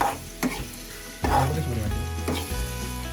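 Live prawns sizzle in a pan with Malvani masala and chillies, a close frying hiss broken by a few sharp stirring scrapes and clatters.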